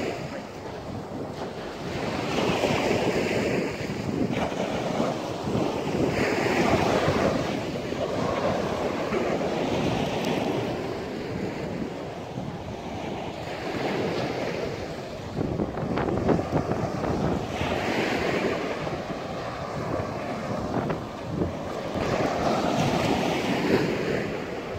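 Waves wash steadily onto the sandy Delaware Bay shore at Bowers Beach. The surf surges and recedes in a broad, continuous roar with strong wind buffeting the microphone throughout.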